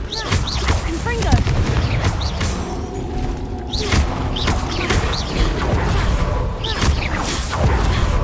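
Fire blast spell cast in the Hogwarts Legacy video game, several sharp bursts and crackling impacts repeating across the scene over dense game noise, with voices and other spell effects mixed in.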